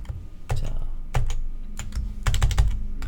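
Computer keyboard keys pressed while editing in video-editing software: a run of sharp, close keystrokes in short bursts, a few separate presses followed by a quicker cluster near the end, with no speech.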